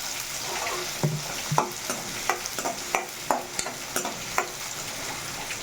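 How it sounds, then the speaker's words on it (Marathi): Onion and green chillies fry in hot oil that spatters out to the sides, making a steady sizzle punctuated by repeated sharp pops and stirring scrapes at an uneven rhythm, close and fairly loud. "कांदा आणि ग्रीन चिलीज फ्राय होताना तेल साईडनी उडते"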